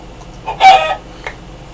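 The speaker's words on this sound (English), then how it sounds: "So there's our chicken, look." A single short, nasal cluck from a chicken in Minecraft rises out of quiet, followed by a fainter second note a moment later.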